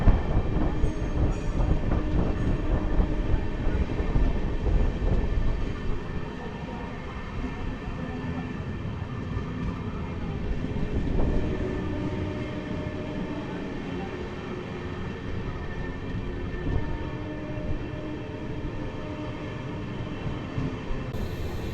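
An Amrit Bharat Express train, the 16601 Jogbani service between Erode and Perambur, runs along the track with a steady loud rumble and rattle of carriages that continues throughout, with a faint voice at times.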